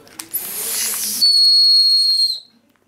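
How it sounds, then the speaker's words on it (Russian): A small plastic toy whistle from a Chinese chocolate egg is blown in one sustained shrill, steady tone lasting about two seconds, with a breathy rushing onset, close and loud. "Игрушка или кушать? Свисток."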